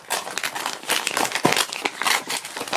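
Paper and cardboard packaging is torn open up close with continuous crinkling, crumpling and ripping.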